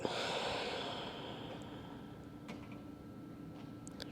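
A yoga instructor's long exhale during an advanced vinyasa class, a soft airy breath strongest at the start and fading over a few seconds, with faint room noise and small clicks.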